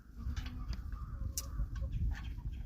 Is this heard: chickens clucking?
yes